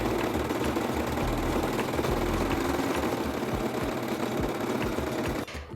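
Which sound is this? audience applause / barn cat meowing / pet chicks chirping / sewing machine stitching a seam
sewing machine stitching a seam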